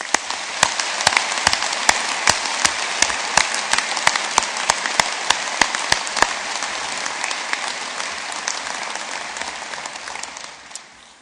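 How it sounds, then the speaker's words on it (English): A graduating class at an Ulster University summer graduation ceremony in Belfast gets a restrained round of applause, steady crowd clapping with a few sharp, louder claps standing out early on, tapering off near the end. "That was a little bit of a restrained round of applause"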